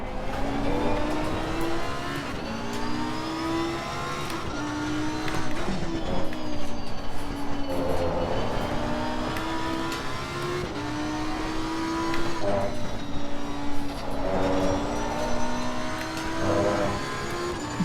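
A Lamborghini Evo race car laps Laguna Seca in Assetto Corsa Competizione, its engine note rising and falling steadily with shifts and throttle changes, loud and continuous without a break.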